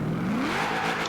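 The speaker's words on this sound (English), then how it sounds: "As you guys can hear, this engine" Toyota 2000GT engine in Forza Horizon 4 revving up steadily, pitch climbing smoothly over about a second, loud and close with no voices over it.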